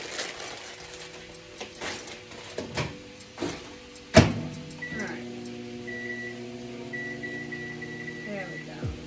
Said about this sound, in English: I think I'm gonna use the microwave.